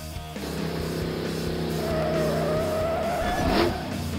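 Toy monster trucks skid, with a steady engine roar and a long, rising tire squeal, loud and close, ending in a sharp sweep near the finish.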